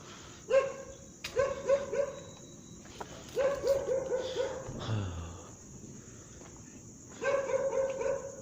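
A dog barks in short bursts, several quick barks in three clusters with pauses between, over a steady insect-like hiss in the background.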